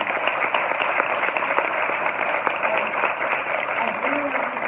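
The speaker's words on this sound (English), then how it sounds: "let's give our panelists a round of applause" Audience applause for a panel of speakers at a legislative preview event, a steady wash of clapping with scattered sharper claps, fairly loud and sustained throughout.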